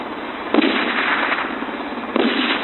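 Two sharp gunshots ring out about a second and a half apart, each a bright, muffled crack trailing into a hiss over a steady band of noise.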